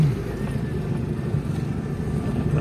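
A motorcycle rides past in a rural village setting, a steady loud engine drone close by with no speech over it.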